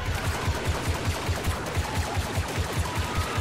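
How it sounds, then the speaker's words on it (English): Rapid automatic blaster fire in Star Wars Battlefront 2 rattles out in a steady stream of evenly spaced shots, loud and close, running without pause throughout. "you can see me shooting inside of it"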